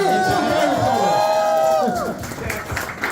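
Crowd at The Offspring's Supercharged album party in Sydney cheers and applauds loudly, with a musical tone ringing through the first two seconds before the clapping thins out.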